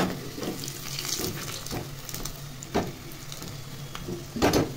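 Potatoes fry in a pan in a home kitchen, giving a steady, soft sizzle with faint bubbling and a few louder crackling bursts, heard alone without talk.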